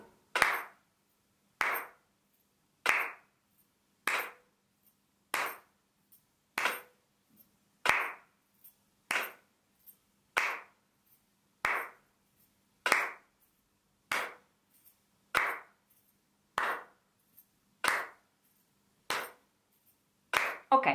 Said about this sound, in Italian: Quindi noi magari potremmo battere le mani.